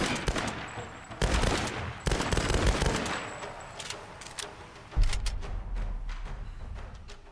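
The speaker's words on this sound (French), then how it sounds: "j'ai un fusil commando" A commando rifle fires in the video game Tomb Raider, with rapid automatic bursts and scattered shots, loud and close, over a dull rumbling background.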